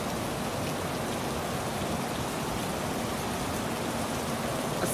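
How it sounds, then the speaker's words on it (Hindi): Steady rain falling in Qatar, a dense, even hiss of drops hitting surfaces that runs unbroken and fairly loud from start to finish with no voices. "बारिश हो रहा है कतर में फिर से"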